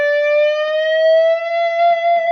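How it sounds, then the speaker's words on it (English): Electric guitar playing a glam metal lead, one sustained note slowly bent upward and then shaken with wide, wild vibrato, loud and alone with a bright, rich overtone ring. "then add some really wild vibrato, which was very common."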